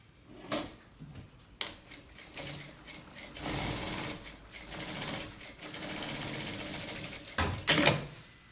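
A sewing machine quilts fabric over foam for a crossbody bag in several close bursts of stitching separated by sharp clicks and pauses.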